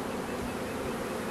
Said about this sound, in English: The bees seem to be very happy as well.